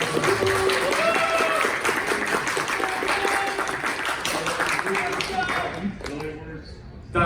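Audience applause fills a convention author panel at HarmonyCon, a dense, sustained wash of clapping from a large crowd that holds steady for about six seconds before thinning out, with voices faintly mixed in.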